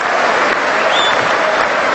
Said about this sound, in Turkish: Notts County ve Galatasaray taraftarlarının alkışlarıyla Bialkowski